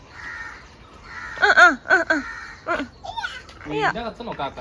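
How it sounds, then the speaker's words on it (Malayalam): A crow caws several times indoors, the harsh calls coming in quick bursts close by, with voices of people and children talking around them. "അതെ വീടിനകത്താണോ കാക്ക"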